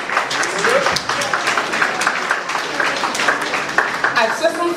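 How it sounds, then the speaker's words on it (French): Audience applause at a festive event, dense clapping held at a steady level across the whole stretch, with voices talking over it. "vous pouvez applaudir"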